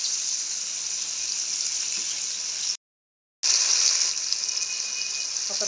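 Chicken pakora frying in hot oil, a steady bright sizzle and crackle that cuts out briefly to silence, then resumes just as strong, close and continuous with no talk.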